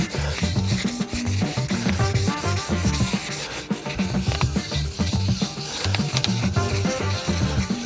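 2000-grit paper rubs by hand over painted Vespa scooter bodywork in an outdoor home repair, a close, steady rhythmic scrubbing of repeated back-and-forth strokes.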